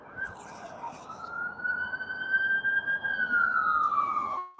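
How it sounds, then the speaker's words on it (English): An ambulance siren wails steadily in the street, a long rising and falling tone that stays loud and fairly close throughout over a background of traffic rumble. "Another ambulance."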